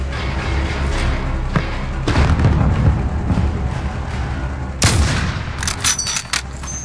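Gunfire in a Call of Duty Plunder match, including a .50 caliber sniper rifle, heard as a dense stretch of booming shots and thumps over constant battle rumble, with one sharp loud crack near the end.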